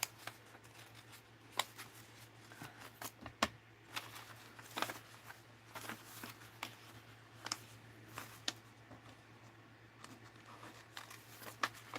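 A paper mail envelope is torn and pulled open, giving quiet close crinkles, rips and taps scattered over a low steady hum.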